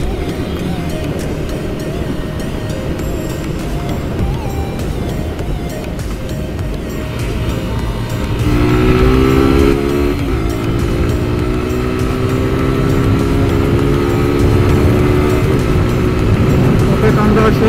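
A Pulsar motorcycle accelerates hard on an expressway in Bangladesh, its engine note rising in stepped gear pulls over heavy wind roar, loud and close, and grows stronger partway through.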